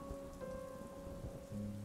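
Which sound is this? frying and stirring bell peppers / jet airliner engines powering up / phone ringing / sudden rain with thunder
sudden rain with thunder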